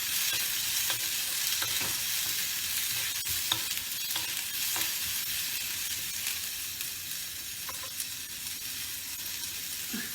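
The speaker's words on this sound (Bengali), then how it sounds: "এইবার এই তেলের মধ্যে আমি পেঁয়াজটা ছেড়ে দেব" Two small onions sizzling in about a teaspoon of oil, a steady dense frying hiss with occasional stirring scrapes, close and even throughout.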